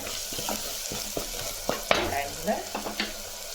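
Onions sautéing in a pan for sambar, a bubbling sizzle with irregular spoon scrapes and clinks against the metal, close and moderately loud, no talk.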